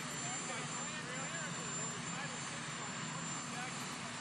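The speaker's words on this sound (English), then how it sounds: "You're competing with a helicopter, John." A helicopter flies over an outdoor press conference, a continuous droning rotor and engine rumble filling the air steadily from start to finish while a voice speaks underneath.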